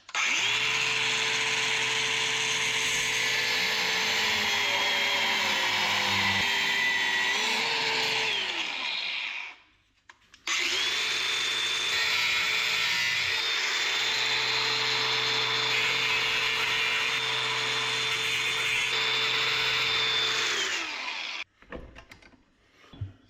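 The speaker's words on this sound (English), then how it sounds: "So let's again get the grinder out, cut that off, and then see how it fits." An angle grinder cuts into a metal clutch pedal bracket during a clutch pedal assembly upgrade. Two long, loud, steady whining runs are split by a short pause, and the motor winds down and sputters at the end.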